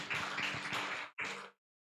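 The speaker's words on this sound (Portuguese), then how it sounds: "Dê um aplauso ao nosso Senhor Jesus." A church congregation claps together in a burst of applause that stops abruptly, resumes briefly, then cuts off into silence.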